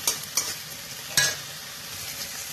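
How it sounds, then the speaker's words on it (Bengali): Onion being sautéed in a pan with garlic and ginger paste for an egg mustard-poppy seed curry: a steady soft sizzle with three sharp stirring scrapes, the last one louder, and no voices. "রসুন বাটাটা এক চামচ করে করে ভালো করে পেঁয়াজটাকে কষিয়ে নিতে হবে"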